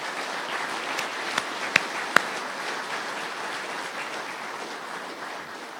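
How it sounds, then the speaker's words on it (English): Audience applause at the dedication ceremony for the Earl Yestingsmeier Golf Center, a steady wash of many hands clapping throughout with a few sharper claps standing out, no talking. "Please give them all a round of applause."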